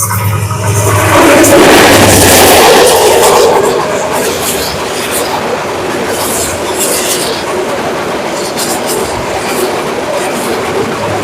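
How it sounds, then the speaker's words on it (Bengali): A train roars past close by at high speed, a loud rushing rumble with rhythmic clatter that fades to a steady distant rumble. "ঝড়ের গতিতে কিন্তু ট্রেন চলে গেল"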